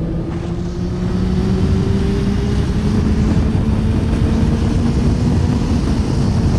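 A loud motorcycle engine drones steadily up close, its pitch rising gradually as it accelerates through the gears, with rumbling road noise throughout.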